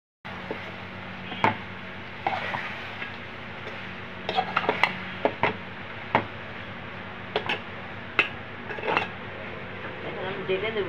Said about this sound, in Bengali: সবজিটা এখন কষিয়ে নেব, তারপরে মাছগুলি দিয়ে দেবো।